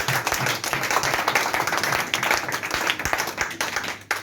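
A church congregation bursts into sustained, dense applause after a sermon reading, a steady roar of many hands clapping for about four seconds, with a few voices mixed into the wash.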